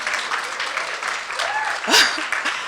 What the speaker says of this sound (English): je vous demande vraiment de l'applaudir parce qu'elle le mérite